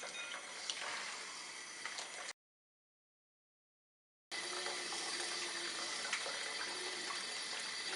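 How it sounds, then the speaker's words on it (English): Water is added to a bowl of pumpkin pulp and seeds, giving a steady splashing and trickling sound close by, broken by a two-second gap of silence before the pouring resumes, with no talk. "As you add water, you can just scoop off the seeds."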